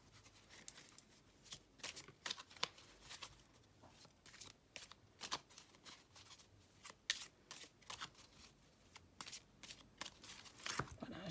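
A deck of playing cards is shuffled over and over, giving quick riffling bursts and soft slaps in an irregular rhythm, close and fairly quiet.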